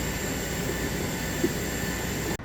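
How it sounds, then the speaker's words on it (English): Airport ambience at Köln airport: a steady, moderate hum of aircraft engines and broad background noise with a faint tonal whine, continuous throughout, ending in a brief dropout. "Love airport atmosphere."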